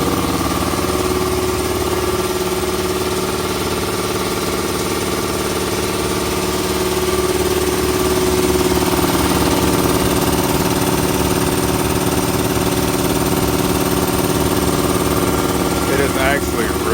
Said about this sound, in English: It is quieter, believe it or not, it's quieter than my little 8-gallon oil-free compressor.